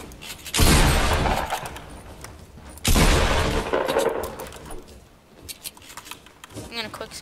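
Gunfire in Fortnite squad gameplay, heard as loud bursts of rapid shots from a video game, with two prominent volleys and scattered lighter shots while players talk over the action.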